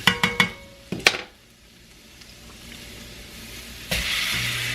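Tilapia fillets are laid into a pan of hot butter and garlic, several sharp metallic clinks followed by a quiet stretch, then a bright sizzle rises suddenly and keeps going.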